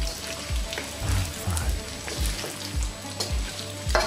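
Pieces of mutton fry with curry leaves in a pan for Hyderabadi tala huwa gosht, a close, continuous sizzle broken by rhythmic stirring scrapes and soft thuds about every half second.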